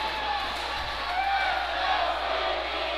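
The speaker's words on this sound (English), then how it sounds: "And now the crowd starting to get rowdy here, wanting something big to happen." A crowd at an ice hockey game is rowdy with a continuous roar of voices and cheering that swells slightly, while a commentator talks over the noise.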